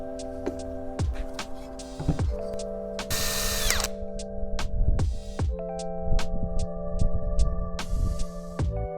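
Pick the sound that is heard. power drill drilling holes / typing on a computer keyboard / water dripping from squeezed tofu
power drill drilling holes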